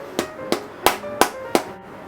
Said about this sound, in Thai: ใช้เราใช้ค้อนค้อนยางเคาะเบาๆได้นะครับ